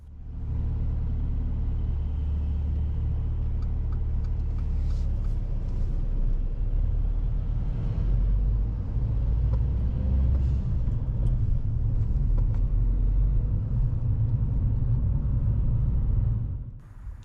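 Car waiting behind a bus at a bus stop, with a steady low engine rumble and road drone continuing evenly throughout, no talking.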